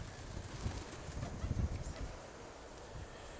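Pigeons coo softly in low murmuring bursts near a dovecote, a faint rumbling flock sound that swells briefly mid-clip over steady background noise.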